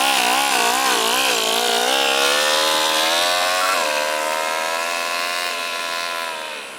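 A two-cylinder four-stroke overhead cam engine fitted in an RC car buzzes loud and close, its pitch wavering and climbing with throttle changes before easing down slightly at the end.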